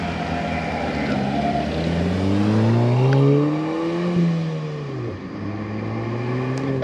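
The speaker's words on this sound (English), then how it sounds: "So we're at speed right now. We're at 70 miles an hour on our traditional highway portion here" A 2017 Ford Fiesta ST cruising on a highway at 70 mph, with a steady engine drone and road and wind noise that rise and fall in pitch as the car holds speed.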